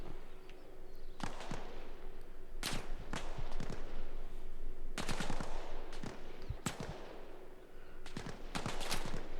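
Gunfire in Arma Reforger echoes through a wooded map, with single shots and short rapid bursts popping at a moderate distance over a steady outdoor ambience.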